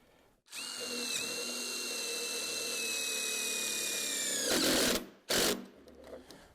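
A power drill fastening a beam attachment bracket to a post during perimeter box beam installation: one sustained, close, high-pitched whine lasting several seconds, followed by two short loud bursts as it finishes, with no talk.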